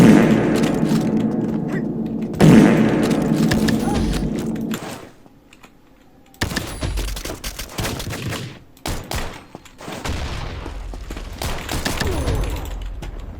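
Rapid gunfire bursts in the Combat Master shooter game, loud and close, rattling in long runs with a brief quiet gap midway before more clustered shots and thuds return.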